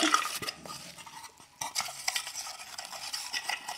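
Cards are shuffled before a draw, with a close burst of rapid riffling and rustling, a brief pause, then more brisk shuffling, with no talk.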